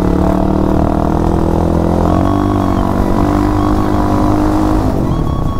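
A motorcycle with weak pickup drones steadily and loudly while being ridden, its engine note holding nearly constant with a slight shift partway through and no talking.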